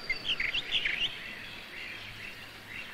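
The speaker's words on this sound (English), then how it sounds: "that bird, is it doing all those songs? Of course, it's a mockbird." A mockingbird in a colonial-era garden sings a run of quick, varied chirping phrases, clear at first and then fainter and more scattered over a quiet background.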